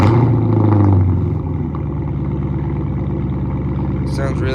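Cold start of a fifth-generation Chevrolet Camaro 2SS V8 with muffler and resonator deleted: a loud, deep startup flare settles into a steady, rumbling idle, close and continuous.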